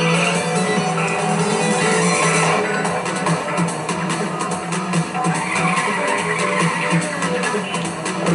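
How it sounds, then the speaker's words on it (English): Tires skid and squeal as a car drifts through corners in a PlayStation racing game, a steady, dense wash of engine and tire noise running throughout at game-audio volume. "I'm drifting a little bit."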